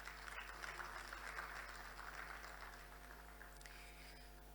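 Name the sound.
applause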